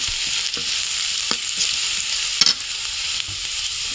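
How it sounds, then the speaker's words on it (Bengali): Onion for a Bengali fish curry fries in a hot pan, giving a steady bright sizzle throughout with a few scrapes and clinks of stirring mixed in. "এখন পেঁয়াজটা ভাজা হয়ে গেছে"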